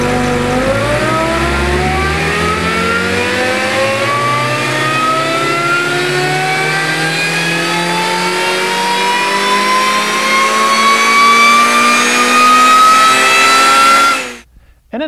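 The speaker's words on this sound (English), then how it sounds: "Let's do the dyno run again" A supercharged Honda Civic engine is run hard on a dyno, its loud, steady roar climbing smoothly in pitch for about fourteen seconds before the revs suddenly drop and cut off.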